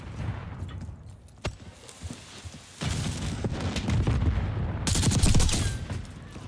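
Rapid bursts of gunfire in a video game shootout, loud and dense, heaviest in the second half with sustained volleys.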